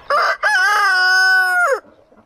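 A rooster crows once, loud and close: a short opening note, a brief break, then a long drawn-out call that rises and falls away, with faint farmyard noise after it.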